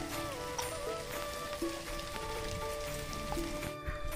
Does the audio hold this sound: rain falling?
yes